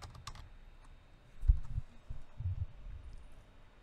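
Keystrokes on a computer keyboard during Windows registry searching, a handful of soft, close taps clustered in two short bursts over a low, quiet room hum.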